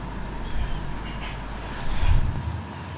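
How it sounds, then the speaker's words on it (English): Baby magpies churr and cluck softly near their nest as a parent comes close, giving low, rough, scratchy calls with a louder burst toward the end, heard outdoors against a steady background hiss. "You can hear a baby churring when a parent comes very near them."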